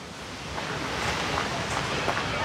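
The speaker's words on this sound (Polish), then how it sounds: "I takie falki" Small waves wash on the Adriatic Sea near a boat, a steady, close hiss of water mixed with rushing wind noise.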